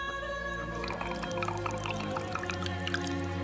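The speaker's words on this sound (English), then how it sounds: "poured it on Jesus' feet" Expensive perfume made of pure nard pours and drips, with bright watery plinks and trickles scattered over a steady low hum, fairly loud and close, with no talk.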